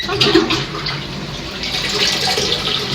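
A hotel toilet flushes with a rushing, gurgling surge of water that runs continuously for a few seconds, heard up close in a small room without talk.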